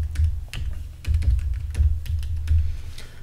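Rapid clacking keystrokes on a computer keyboard as an email address is typed, steady close-up tapping with slight pauses between bursts, no voices.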